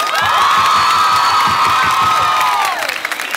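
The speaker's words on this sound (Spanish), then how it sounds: "Quiero que todo el mundo le dé un fuertísimo aplauso a la mamá de Vladimir." A crowd cheers and whoops loudly in tribute to a mother at a live concert honoring Vladimir Cabrera, with sustained shouting voices that fade near the end.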